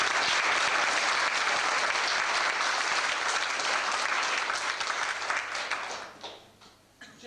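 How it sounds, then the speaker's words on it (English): A wedding crowd claps steadily in sustained applause that fades out near the end. "I think that deserves a round of applause."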